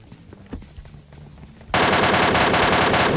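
PUBG Mobile Lite gunfire: after a quiet stretch of faint game noise and soft footstep-like taps, a loud burst of rapid automatic shots suddenly erupts and keeps rattling to the end.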